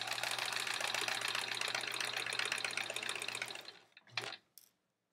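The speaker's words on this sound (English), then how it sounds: "removing the pins and sewing exactly on this line." A sewing machine stitches along a marked line on quilt fabric, a steady close whir that stops after about four seconds, followed by a brief short burst.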